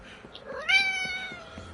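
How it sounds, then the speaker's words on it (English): A pet cat named Boba gives one clear, close meow that rises and then trails off, with faint background noise and no talking. "My cat has shown up, so you might hear"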